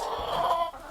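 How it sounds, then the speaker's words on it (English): Backyard chickens cluck together in a run on a chilly day, a dense, steady burst of overlapping mid-pitched calls, fairly loud and close, with no talking. "Chickens are so fun."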